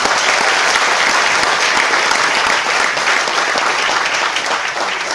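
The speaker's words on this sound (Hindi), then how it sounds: "तो अपने लिए जोरदार ताली होनी चाहिए कि नहीं?" A large audience at a Vestige product presentation claps loudly and steadily, a dense, unbroken roar of applause that holds at full strength throughout with no voices over it.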